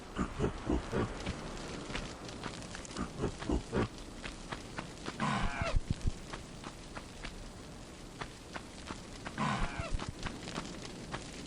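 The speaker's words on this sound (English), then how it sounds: "He sounds like Donkey Kong, doesn't he" Monkey vocalizations from a character in the Tomb Raider video game, a series of short chattering cries and grunts recurring through busy game sound, with louder bursts around the middle and near the end; no speech.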